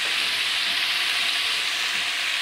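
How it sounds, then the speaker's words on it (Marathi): Pumpkin and other vegetables sautéing in a pan for dal make a steady, close, even hiss of frying with little variation across the short stretch. "थोडासा भोपळा, छान परतून घ्यायचं आहे."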